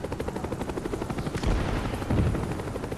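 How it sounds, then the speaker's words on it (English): Helicopter in the video game Call of Duty: Black Ops, a loud rhythmic rotor chop thudding steadily throughout, mixed with bursts of gunfire and heavier blasts. "Trying to take out my chopper already, man."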